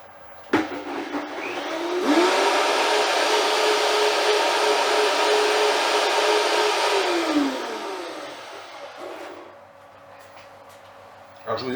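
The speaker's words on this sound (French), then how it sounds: "Je vais à nouveau la mixer. Donc je vais refaire un petit peu de bruit." A kitchen blender whirs steadily for several seconds while mixing a cooking preparation in a culinary workshop, loud and close, then spins down, with a voice speaking briefly before and after.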